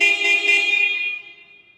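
One sustained, bright honk from a nearby motorcycle horn on a Hi-Speed Freedom SR 200, loud at first and then fading out toward the end.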